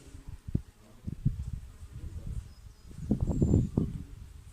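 Low buzzing of a bee in an abandoned sanatorium, rising and falling close by, growing louder and denser toward the end, with faint rustling around it.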